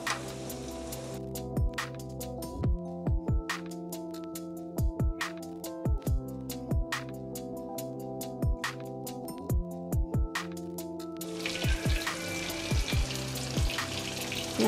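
Dahi ke shole fry in hot oil over a low flame, a steady close sizzle with crackling bursts and a few sharp clinks of a utensil, the frying growing brighter and hissier near the end.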